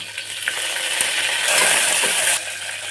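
Fenugreek and cumin seeds hit hot oil and fry, a loud dense crackling sizzle with faint tiny pops that swells in the middle, then eases slightly.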